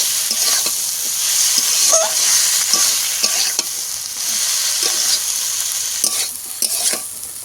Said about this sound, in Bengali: সব কিছু মশার সঙ্গে একটু লেড়ে ফেলে মিশিয়ে নেবো